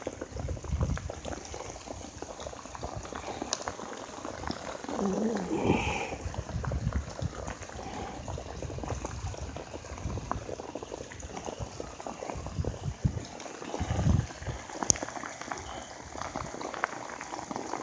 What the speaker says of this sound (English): Wow, this rain is so heavy, the streets look like ponds, as well as the sidewalks.